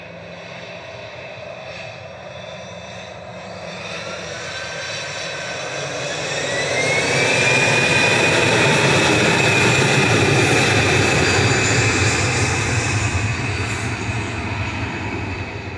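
A Virgin airliner departing Manchester Airport swells from a distant hum into a loud, close jet roar with a rising whine that peaks midway, then eases slightly as it passes, no voices heard.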